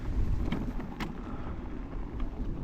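Wind gusts buffet a rider on a 12 kW Stealth Bomber enduro e-bike as a storm blows in. The result is a continuous low rumbling rush of wind noise with a few brief, slightly sharper surges.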